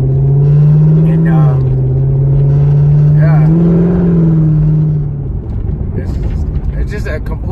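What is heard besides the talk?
Corvette engine revving while driving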